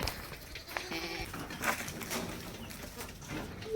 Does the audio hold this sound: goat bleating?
yes